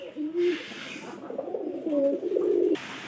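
Pigeons coo repeatedly at close range inside a netted loft, their low throaty calls rolling in a steady, overlapping rhythm with soft rustling behind them and no talking.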